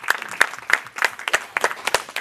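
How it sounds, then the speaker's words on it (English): Applause at a cultural festival stage event, with sharp individual claps in an uneven rhythm ringing out close and clear for a couple of seconds amid a light crowd. "A big round of applause for the beautiful ladies."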